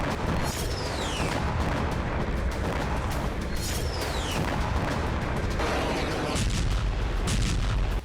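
Missile and artillery strikes roll through as dense, continuous booming and crackling blasts, loud and sustained with whistling streaks overhead, set amid fighting between Ukrainian and Russian forces.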